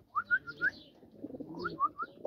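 Male pigeon cooing and giving soft whistling calls in short repeated phrases, fairly close but quiet, with faint background noise.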